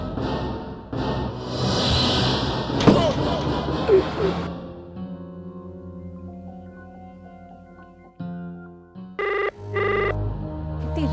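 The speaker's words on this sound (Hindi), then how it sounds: "इतनी रात गए किसका फोन हो?" A telephone ringing late at night in a horror drama scene, its bell tone repeating in bursts over dramatic background music, growing louder toward the end.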